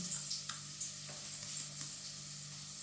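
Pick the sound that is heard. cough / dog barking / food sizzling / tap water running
food sizzling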